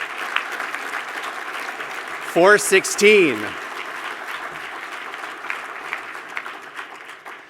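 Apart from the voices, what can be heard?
audience applause at breakfast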